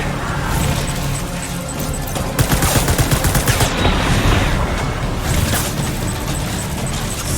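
Gunfire in the video game Death Stranding: a cluster of rapid, sharp shots fires close and loud midway through, over a steady bed of game ambience and hiss.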